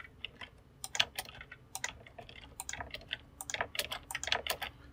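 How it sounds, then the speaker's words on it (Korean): Keys clack on a computer keyboard in quick, irregular bursts of crisp close taps with short pauses between, F9 among them, in a quiet room. "다 했으니까 F9 키를 누릅니다"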